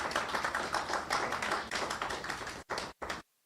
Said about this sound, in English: give them a round of applause as they make their way